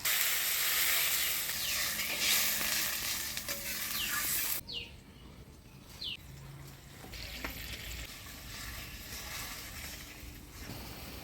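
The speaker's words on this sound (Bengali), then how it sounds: "লঙ্কা বাটা আদা বাটা দিয়ে ফোড়নের তেলের সাথে ভালোভাবে কষিয়ে নিলাম, এবার জল দিয়ে দিব।" Chilli and ginger paste frying in oil in a pan for a Bengali fish roe curry gives a loud continuous sizzle and hiss, which drops sharply when water is poured in, followed by quieter bubbling and occasional stirring scrapes.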